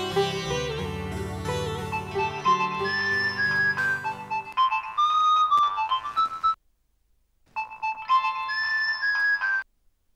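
A phone ringtone chimes during a call in a Gujarati TV serial, a clear melodic electronic tune playing loud in repeated bursts, pausing briefly before resuming, with no talking.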